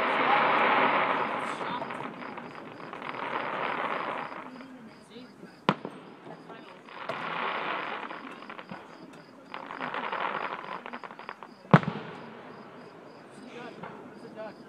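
Fireworks finale with many going off at once: rolling bursts of crackle and fizz in waves, sharp booms near the middle and the end, and people talking faintly underneath.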